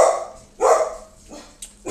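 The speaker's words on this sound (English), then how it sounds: "Doggy." A dog barks several times, reacting to a delivery truck, with loud close separate woofs spaced irregularly over two seconds and no talk between them.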